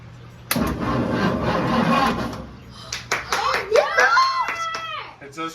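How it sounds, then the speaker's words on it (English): A 1963 Ford Thunderbird engine cranks in a loud sustained burst for a couple of seconds, followed by excited talking and clapping. "It just cranked. That means fuel, spark, baby."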